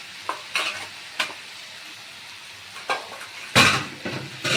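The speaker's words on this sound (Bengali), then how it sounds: "সেদ্ধ করা আলু দিয়ে এবার একটু ভালো করে নাড়িয়ে নিতে হবে" Boiled potatoes are stirred in a hot pan for aloo dum. Several scraping spatula strokes come at irregular intervals over a low sizzle, with a louder, longer scrape and clatter toward the end.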